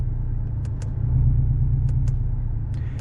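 A Porsche Cayman 718 four-cylinder engine idling with its exhaust flaps open in sport mode: a steady, low, throbbing rumble from the rear, with a few faint clicks over it.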